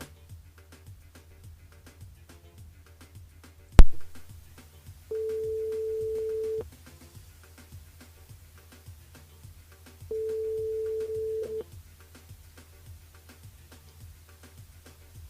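A telephone line on a call to a radio station switchboard plays two long, steady ringback tones after a sharp click, with quiet line hum in the gaps.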